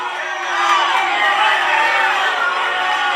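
A pro wrestling crowd at a CCW event roars in loud, sustained anger, the dense shouting and jeering swelling after the first half-second and holding steady to the end.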